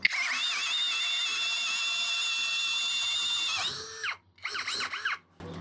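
A Hanabi LJ2022 drill with a hybrid chuck and 55 Nm torque drilling, a steady high whine held for several seconds before it stops and restarts in short, uneven bursts, close by with no talk.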